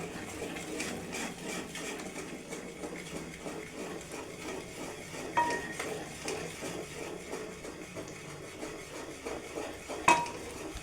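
Kajjaya dough being stirred in a pan, with a steady run of soft scraping and clinking of a spoon against metal. Two sharper knocks of utensil on pan stand out above the continuous close-up stirring.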